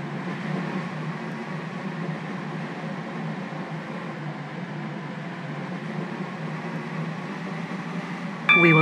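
A Stepford Connect passenger train runs steadily in the Roblox game Stepford County Railway, a continuous low rumbling rail drone with wheel noise, even and unbroken throughout, ending with a brief electronic chime.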